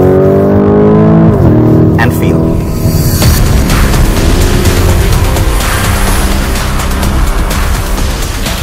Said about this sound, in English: The way the car is changing its gears, the way it's downshifting.